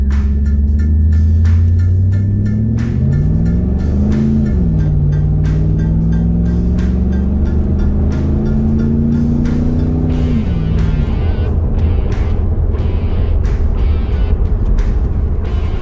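A 1999 Pontiac Trans Am 30th Anniversary V8 runs loud and steady with a deep throbbing note, its pitch climbing and dipping as the revs change, then settling into a lower rumble.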